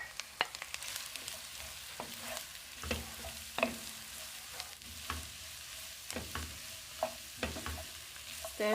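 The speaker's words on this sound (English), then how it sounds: "I'll stir fry the cabbage a bit" Onions and cabbage stir-fry in a pan with a soft continuous sizzle, broken by repeated scraping strokes and knocks of the utensil at a fairly quick, uneven rhythm, with no talking.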